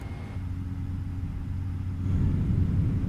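A steady, loud low-frequency drone of a PMDG 777-200ER's engines heard from the rear cabin in Microsoft Flight Simulator 2024, with a deep rumbling hum that swells slightly toward the end, alone without talk.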